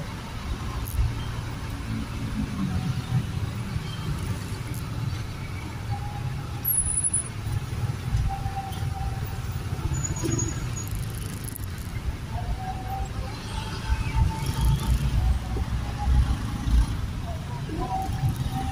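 Road traffic heard from a motorbike, a low continuous rumble of cars, trucks and buses with occasional brake hiss, moderately close.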